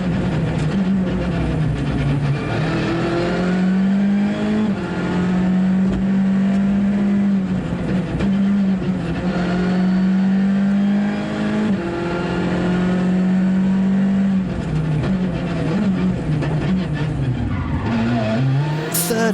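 A Latvian SRT-prepared rally car from the 2017 European Rally Championship at Rally Poland roars hard through a gravel stage, its engine droning loud and close with rising and falling revs and gear changes throughout.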